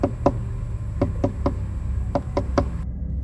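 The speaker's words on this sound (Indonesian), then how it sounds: "tiba-tiba mendengar suara ketukan di pintu kamar sebanyak 3 kali" Sharp knocks on a bedroom door in a quiet rented room, spaced in loose pairs and singles across a few seconds against a low rumbling background, close and fairly loud with no voices.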